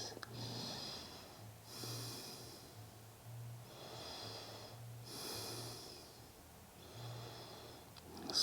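Slow, deep yoga breaths rise and fall in a steady rhythm of long inhales and exhales, close and soft, over a low background hum.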